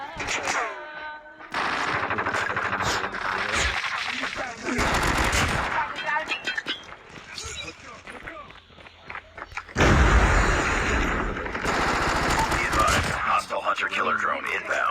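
AK117 rifle bursts in Call of Duty Mobile crackle in rapid automatic strings, loud and close, separated by short pauses and mixed with game effects and a voice talking.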